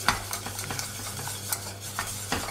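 A whisk stirs melting salted butter caramel in a pan, giving a steady, close scraping and swishing with a soft sizzle and light metallic taps against the pan.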